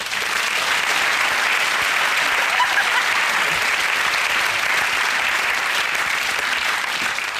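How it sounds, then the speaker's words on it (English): A studio audience at a television comedy panel show claps in sustained, even applause that holds at full strength throughout, with no voices over it. "So please join me in a round of applause for our stars and a charity of your choice."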